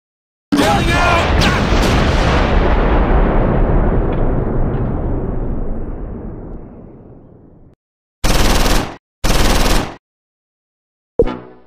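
A heavy blast with a long decaying rumble opens the sequence in a World War II tank battle video game near Dasburg, followed by two more sharp, loud gunshots and a final burst, with silent gaps between them.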